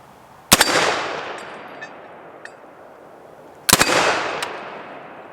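Two heavy, loud single shots from a .50 caliber AR-15 rifle fired outdoors at a steel target, spaced a few seconds apart, each followed by a long echoing decay and a faint distant ping.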